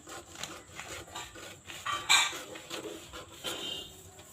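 Blouse fabric is cut along a marked katori curve, producing quiet, rhythmic scraping and rubbing strokes with a sharper crisp snip partway through, close and without talk.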